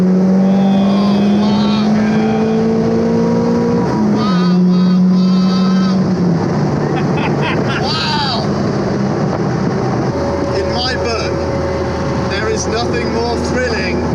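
A Caterham 310R with a naturally aspirated engine revs hard while driving, the engine note climbing in pitch through repeated rising pulls and gear changes, with wind rush and a voice speaking partway through.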